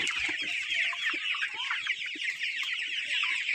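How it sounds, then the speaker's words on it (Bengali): A flock of around 500 Tiger breed chickens, each weighing 1 to 1.5 kg, clucks and chatters continuously on a farm, many birds overlapping in a busy, steady din. "টাইগার জাতের মুরগিগুলো বিক্রি করা হবে।"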